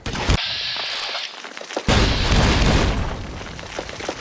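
Heavy bombardment in Fallout: New Vegas: a sharp blast opens, then a deep, loud explosion booms in and rumbles on, fading slowly into a rolling, noisy tail.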